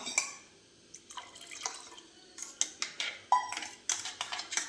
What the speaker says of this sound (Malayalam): നമുക്ക് ഈ പാല് ഒഴിച്ചു കൊടുക്കാം